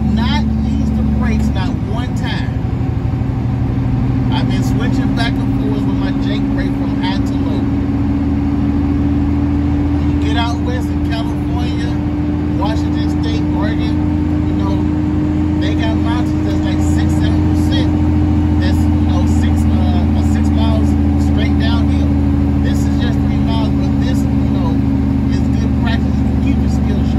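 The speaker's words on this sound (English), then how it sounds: "Jake brake is still working." Heavy truck engine under jake braking on a steep mountain downgrade, a loud continuous low droning roar that holds steadily throughout with road noise and a voice talking over it.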